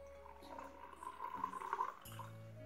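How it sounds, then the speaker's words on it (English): Water is poured into a transparent glass, a faint splashing gurgle that fills for about two seconds, close and quiet, then stops abruptly, with no talking. "Now we will add some water in it."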